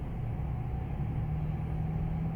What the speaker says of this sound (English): let me just drive off a little